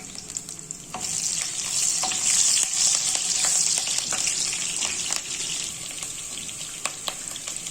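Halved green chillies hit hot oil with garam masala, setting off a bright, loud hiss that rises sharply, then settles into a steady close sizzle with occasional clicks of a spoon.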